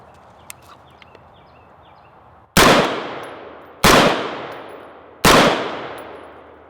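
An 11.5 inch AR pistol fires three loud, close single shots at a target outdoors, spaced about a second apart, each with a sharp crack and decaying echo.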